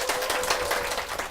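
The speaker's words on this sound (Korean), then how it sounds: "박수로 맞아주십시오" A church congregation gives a short burst of applause to welcome a mother and son. The clapping is quick and scattered and lasts just over a second.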